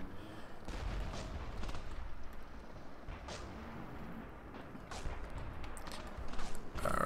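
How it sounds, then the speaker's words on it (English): Artillery fire in the video game Graviteam: Mius Front, heard as a dense, continuous rumble of distant shelling with scattered sharper blasts that rise near the end. "Looks like the artillery is finished,"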